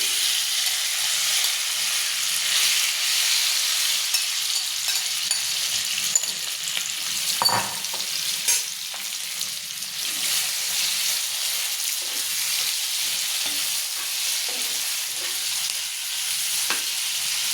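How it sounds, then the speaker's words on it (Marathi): Paneer sizzles and fries in hot oil in a pan, a steady close crackling hiss with occasional stirring clinks running for the whole stretch. "पॅनमध्ये तेल तापले आपलं. आपण हे पनीर टाकून घेऊ थोडं"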